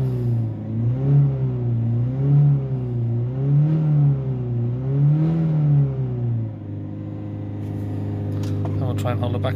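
A Ford Transit Connect 1.5 engine revs up and down, rising and falling in three smooth sweeps before settling to a steady idle hum, loud and close.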